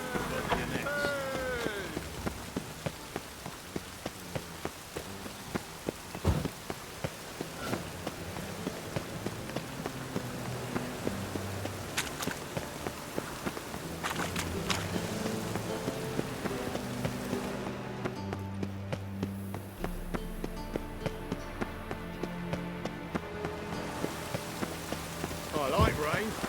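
Rain falls steadily in The Witcher video game, a constant pattering hiss under in-game music and sporadic character voices, with occasional louder impacts over the course of the scene.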